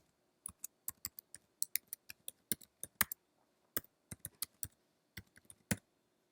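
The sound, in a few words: computer keyboard typing a domain name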